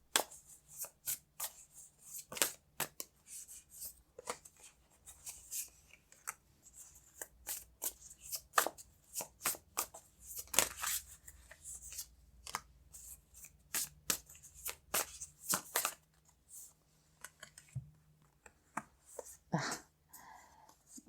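Tarot cards shuffled and drawn by hand, a steady run of crisp riffling and soft flicking bursts at close range over about twenty seconds, with no talking.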